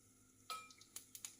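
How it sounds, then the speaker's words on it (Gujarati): Cumin seeds drop into hot oil in a home kitchen while cooking a sprouted mung bean dish, giving a faint brief crackle with a few quick, close ticks and pops over a quiet background. "થોડું ગરમ થાય એટલે નાખી દઈશું આપણે જીરું."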